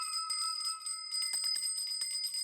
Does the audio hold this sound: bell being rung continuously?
yes